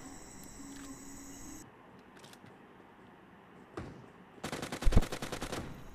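Gunfire from the video game PUBG: a sharp shot or two early on, then a dense rapid burst of automatic fire near the end, loud over a quiet ambient game background with no talk.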